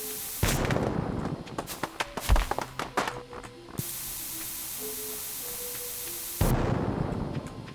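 Bombs go off on farmland in Stardew Valley, a burst of several sharp game explosions close together followed by a sustained hiss, then another loud hissing blast near the end.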